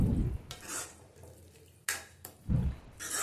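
A spoon stirs drumstick greens and cooked lentils together in a pan for keerai kadaiyal, making a few short, close scraping and sloshing strokes with brief pauses between them.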